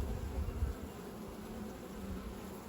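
Honeybees buzz at an apiary hive in late autumn, a soft continuous hum with a few louder passes as individual bees fly near, fairly faint and steady with no talking.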